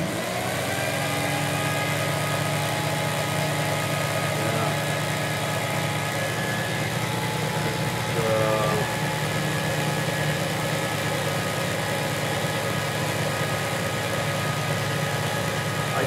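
A Mercedes 230SL engine with mechanical injection pump idles steadily nearby, a continuous even mechanical hum, then its revs rise slightly as the pump is adjusted, with no talking.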